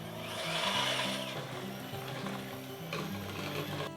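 An electric mixer or blender whirs through carrot cake batter of vegetable oil, vanilla essence and caster sugar, a fairly quiet motor whine with wavering pitch for a few seconds, alone without talk.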